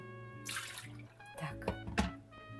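Juice drips and splashes into a bowl as grated vegetables are squeezed out by hand for a summer appetizer, with a few soft, close liquid spatters over a faint steady hum.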